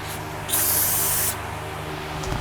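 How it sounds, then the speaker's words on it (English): Brake parts cleaner sprayed onto the rear brakes of a 2014 Toyota Highlander: a single loud, steady aerosol hiss lasting under a second, with quiet shop ambience before and after. "I'm gonna hit the whole thing with a little bit of brake parts cleaner"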